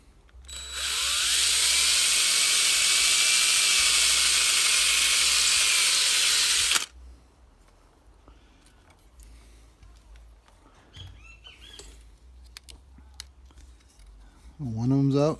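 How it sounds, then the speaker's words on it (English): A 3/16 drill bit bores out a small pop rivet on a square-body truck's fuel pump and tank job, a loud, steady, high whine lasting about six seconds, followed by quieter clanks and handling noises. "drill through that little pop rivet."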